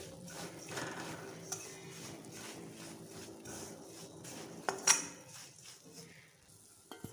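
Roasted coconut being stirred into melted jaggery in a pan for coconut-jaggery laddus, heard as faint, soft scraping and light clinks with one sharper click partway through.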